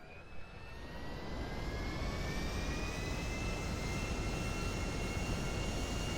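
Airplane engines from the GTA 5 video game give a steady, close, loud jet roar with a thin high whine running through it. The roar swells in the first second and then holds evenly, with no talking.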